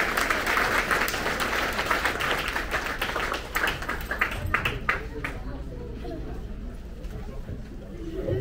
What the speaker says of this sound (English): Another big round of applause for our Presidential Silver Award recipients